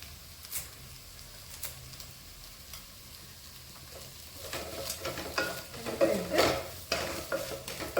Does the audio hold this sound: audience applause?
no